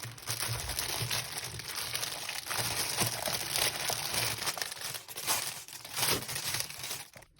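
Crinkly plastic packaging crackles and tears continuously as a backgammon-style pop it fidget toy is unwrapped, steady rustling close up with bright crisp texture and no talking.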